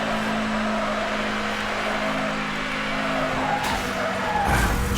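A car skidding sideways through a turn in Need for Speed: Hot Pursuit (2010), with a loud continuous tire squeal over a droning engine for several seconds, swelling slightly near the end.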